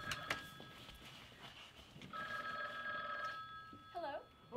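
A telephone rings in repeated bursts of a bright bell tone, fairly close, with some background voices and room noise around it during a scene in a stage play.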